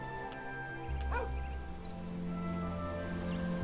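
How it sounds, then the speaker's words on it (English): Dog in the video game Dragon Quest VIII giving a single short bark, then a soft yip, over continuous game background music. "There's a dog here."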